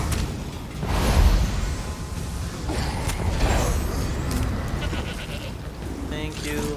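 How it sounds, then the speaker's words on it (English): Goat bleating in a video game, a few short bleats over a busy background of whooshes and mechanical noise, with someone talking across the clip. "So they killed everything except for this goat next to a Ranetu."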